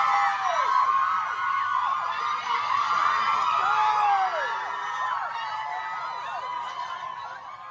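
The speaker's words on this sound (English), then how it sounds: "People are literally lining up outside the courthouse to try to cheer on Johnny Depp" A crowd of Johnny Depp supporters gathered outside a courthouse, cheering and whooping steadily for several seconds, a dense wash of many voices with scattered shouts and laughter, fairly loud and continuous.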